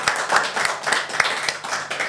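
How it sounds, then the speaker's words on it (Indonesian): Studio audience at a podcast claps in a quick, steady rhythm of sharp hand claps lasting a couple of seconds. "Gila Paris Fernandes, tepuk tangan dulu dong."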